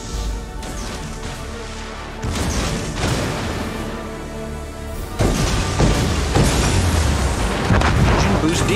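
Torpedo hits on a battleship in a naval video game set off loud, heavy explosions that rise in bursts, with crashing rumble building toward the end.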